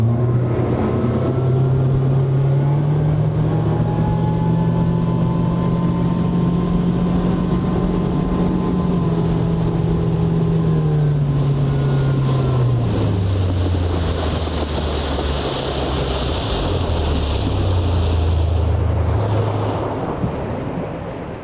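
A fishing boat motors across tidal water during a perch-fishing outing, its low engine drone steady and close under constant wind and splashing surf, with no talking.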